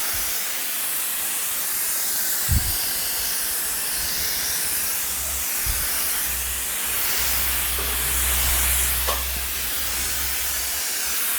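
A sprayer applies UV treatment coating to outdoor furniture, a continuous broad hiss that swells and eases across the clip, with a low rumble and a few soft knocks underneath.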